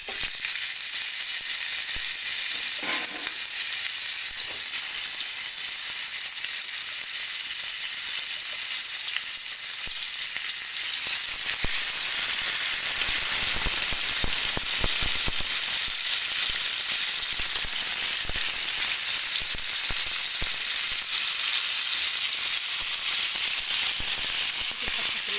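Chicken sizzles in a heated pan oiled with a little oil, a steady bright frying hiss that grows denser with crackles and pops partway through, with a person speaking softly over it.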